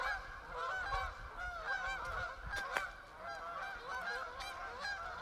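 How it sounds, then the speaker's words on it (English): A large flock of migratory geese honks continuously in overlapping, raucous calls, moderately distant and steady, with a few louder calls standing out. "Those birds are going nuts, man. You're supposed to be down south."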